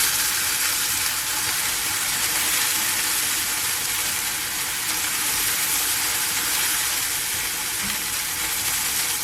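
Spring mushrooms frying in a pan give off a steady, broadband sizzle that holds at an even loudness without pause, with no voices heard over it.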